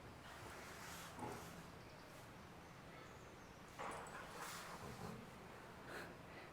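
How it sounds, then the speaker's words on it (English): A dog barks and whimpers in the background at home, faint and distant, with a few short bursts over a steady noisy room. "If you can, please ignore my dog at the back"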